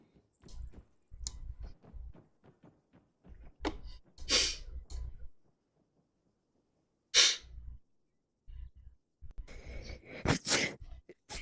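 Human sneezes caught on an open microphone, several sharp bursts mixed with breaths and clicks across a mostly quiet stretch, loud and close, with no talking.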